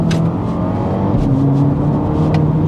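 A BMW M135i with four-wheel drive and a Remus exhaust pulls hard close by, its engine note rising steadily with a firm, punchy gear change partway through.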